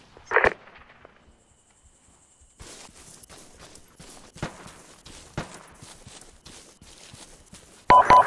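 Gunfire crackles in a video game, with a sharp burst near the start, scattered pops and ticks over a steady background, and a loud burst at the end; no one speaks.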